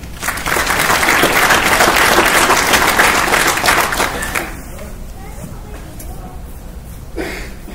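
An audience at a field artillery battalion ceremony applauds distinguished soldier awardees with loud, dense clapping for about four seconds before it dies away into quiet room noise.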